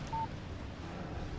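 A brief single electronic tone from a phone's text message alert in Alan Wake Remastered, short and clear over a low ambient hum.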